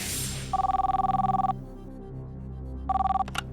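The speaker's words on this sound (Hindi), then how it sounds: "कबीर जी, राजेश राज सिंह भोपाल में फोन लगाया जाए" A telephone rings on an outgoing call to Bhopal during a quiz show, two trilling rings of about a second each separated by a pause, clear and close with nobody talking over them.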